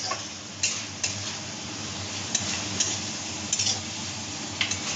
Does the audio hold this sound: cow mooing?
no